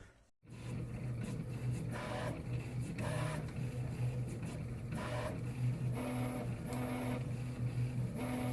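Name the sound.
3D printer running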